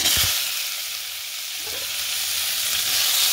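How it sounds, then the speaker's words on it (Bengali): Bitter gourd slices fry in hot oil, a close, loud, continuous sizzle with a few soft stirring knocks at the start. "আর উচ্ছে ভাজা দিয়ে দেবো।"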